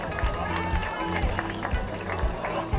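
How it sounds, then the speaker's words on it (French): Crowd applause and clapping at the start of the Lozère Trail 2016 trail race, a dense, continuous patter with an announcer's voice speaking over it. "un maximum d'applaudissements"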